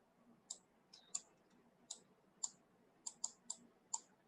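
Mouse clicks in software, about nine sharp, crisp clicks at irregular intervals, close and fairly quiet against a faint background hum.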